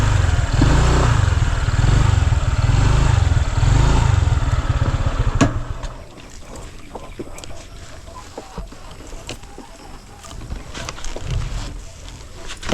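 A motorcycle engine idles loudly close by, then cuts off as the bike is parked, leaving quieter clatter and faint background sounds.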